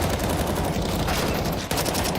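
Rapid gunfire from a Counter-Strike esports match rattles in dense, loud overlapping bursts throughout, a continuous fusillade of shots with no clear pauses.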